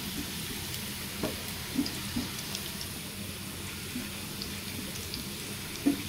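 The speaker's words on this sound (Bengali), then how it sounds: "পেঁয়াজটা অনেক লাল লাল করে ভেজে নেব।" Onions fry in a pan with a steady, soft sizzle throughout, broken by a few faint clinks and stirring taps from a utensil.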